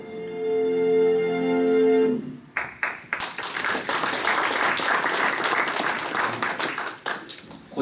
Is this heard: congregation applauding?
yes